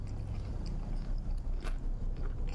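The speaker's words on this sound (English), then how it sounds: "Am I gonna just munch this whole pizza right now?" Chewing a pizza in the game Fears to Fathom, a run of soft, close bites and squishy mastication in a repeating rhythm over low rumble, quiet and with nobody talking.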